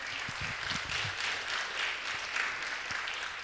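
Faint, distant clapping from a church congregation, a soft continuous patter with a few louder individual claps near the start.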